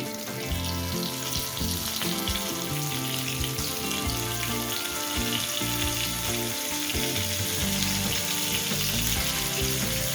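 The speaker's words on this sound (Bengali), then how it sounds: "অল্প অল্প করে মাছগুলোকে ভেজে নিতে হবে" Flour-coated lotte fish (Bombay duck) fries in hot oil, giving a steady, loud, close sizzle that crackles without pause throughout.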